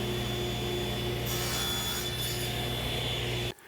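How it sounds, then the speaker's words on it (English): A saw cuts lumber to final length for a drawer box in a woodworking shop, a loud steady grinding whine running continuously for about three and a half seconds before stopping abruptly. "So I'm gonna square up one end, flip it around, and cut it to length, squaring up the other end."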